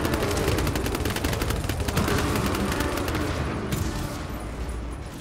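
Rapid continuous bursts of gunfire from a seafoam gun in a frantic shootout, loud and close, a sustained rattling stream of shots that thins slightly toward the end.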